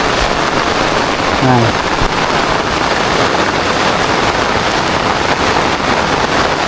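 Rain falls on garden plants as a loud, continuous wash of patter that holds steady throughout, with a faint brief tone near the start.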